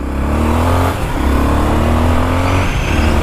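A Honda XRE delivery motorcycle engine revs hard and loud close by, a steady droning roar with rising pitch sweeps and no talk over it.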